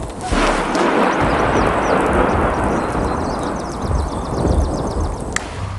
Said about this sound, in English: Thunderstorms are electrical storms with thunder, lightning, and heavy rain.